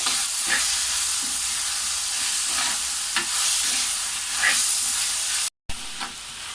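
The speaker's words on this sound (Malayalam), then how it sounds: "ഇനി ഇതിലേക്ക് തക്കാളി ഇടാം. ഇത് വഴണ്ട് വരട്ടെ." Tomatoes hit a pan of onions already frying down, giving a steady close sizzle broken by soft stirring scrapes, with a brief dropout near the end.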